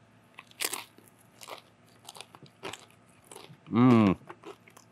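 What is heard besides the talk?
biting and chewing mesquite-smoked serrano pepper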